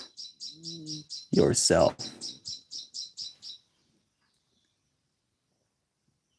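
Small birds chirp outdoors in a rapid, evenly repeated series of high, bright calls, close and clear, with a brief stretch of speech over the middle before the chirping stops and leaves near-silence.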